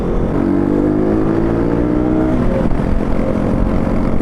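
A KTM RC 200 sport motorcycle roars at speed on a mountain road, its engine close and loud with a rising then settling rev as it pulls hard, no talking.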